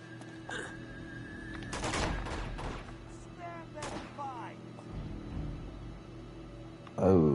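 Enemy gunfire aimed at the player in Uncharted 2 comes as scattered bursts of shots and thuds, with a loud crack at the end and voices in the background.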